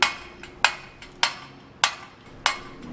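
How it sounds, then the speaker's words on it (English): A sledgehammer drives a metal mailbox spike into the ground: five sharp, ringing metallic strikes at a slow, slightly uneven pace, close and loud, each decaying quickly before the next blow. "now I'm just going to position the back spike and hammer away."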